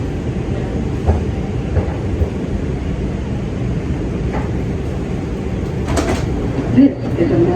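A Manhattan-bound 2 subway train rumbles steadily at a New York station with rattling and a hiss near the end, while an announcement voice plays over it.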